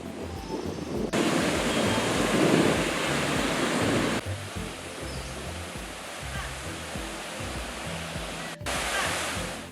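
Surf rolling onto the beach at Matapalo, Costa Rica, a broad steady wash of breaking waves with swelling and easing surges and some wind rumble, fairly close and continuous with no voices.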